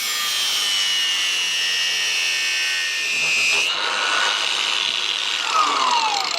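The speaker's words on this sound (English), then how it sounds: "that's over 5 minutes of cutting" An angle grinder cuts steel of a bike lock with a continuous loud high-pitched scream and hiss, its tone dipping slightly partway through, then a rising whine as the disc bites again, close and alone with no talk.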